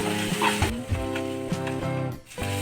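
Spices sizzling in hot oil in a pan while cooking a homestyle mustard and poppy-seed pabda fish curry, with a steady crackle, occasional stirring clatter and a tonal hum in the background.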